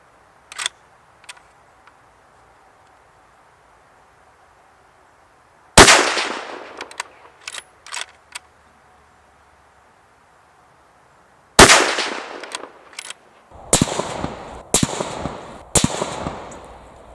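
Shots from a Savage 110 KLYM carbon-fibre rifle in 6.5 Creedmoor fitted with a muzzle brake crack out loud and close, two isolated blasts followed by a cluster of several more, with clanks and clicks between them.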